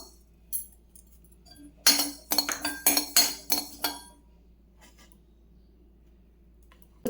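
Mustard seeds spluttering in hot oil in a pan, a quick cluster of sharp pops and crackles bunched together, with a few scattered faint pops before and after.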